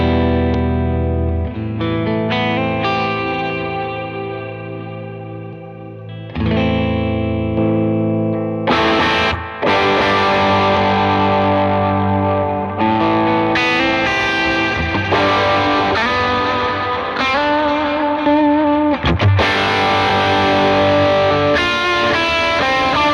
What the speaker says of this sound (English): So my clean preset also has an ambient clean underneath.